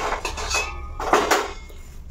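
A ladle stirs sweet flour dough for sunnundalu inside a metal pot, making repeated scraping and knocking sounds close by in an uneven rhythm, with brief pauses between strokes.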